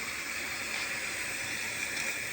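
Mushrooms sizzle in a hot pan with salt sprinkled over them, a steady, even hiss that holds without a break.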